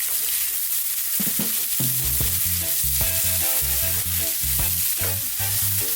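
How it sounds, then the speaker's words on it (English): Garlic, ginger and onions fry on high heat in a pan, a steady bright sizzle running throughout beneath prominent melodic background music. "on this high heat, let's throw these around in the pan"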